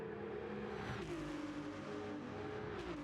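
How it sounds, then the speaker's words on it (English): A Ferrari GT3 race car in Gran Turismo 7 at Interlagos, its engine and exhaust note holding a steady, droning high-revving tone that shifts pitch slightly as it pulls, continuous and fairly even in level. "Absolutely glorious Ferrari engines and exhaust note sounds of the GT3 here"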